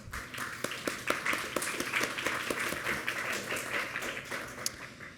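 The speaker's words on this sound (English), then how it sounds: "I think we should have an applause for the panel." An audience at a conference session on critical raw materials applauds a panel taking the stage, a dense, even clapping that holds steady throughout without voices.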